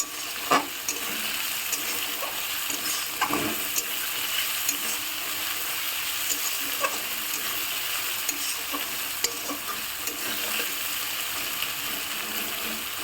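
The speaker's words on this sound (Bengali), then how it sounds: "তো এখন আমি টমেটোটা দিয়ে ভাজবো।" Chopped tomatoes sizzle steadily in hot oil in a pan while making a home-style tadka dal, with a spatula scraping and stirring in repeated taps and scrapes.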